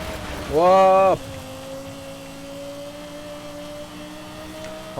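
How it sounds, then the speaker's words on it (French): A car engine in Forza Horizon 5 revs hard in a short rising roar, then settles into a steady droning hum for the rest of the clip. "elle fait un joli bruit cette bagnole"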